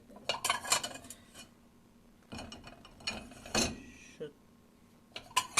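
Dishes, cutlery and pots clatter as they are loaded into the rack of a Siemens dishwasher, in several bursts of clinking separated by short pauses.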